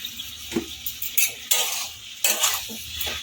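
A spoon repeatedly stirs and scrapes a boiled potato and carrot dish with sugar in a pan, producing irregular clinks and scraping strokes over a faint sizzle, close by.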